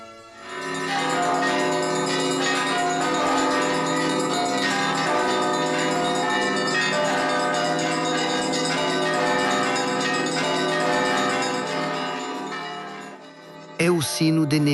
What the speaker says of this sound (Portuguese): É o sino de Neams.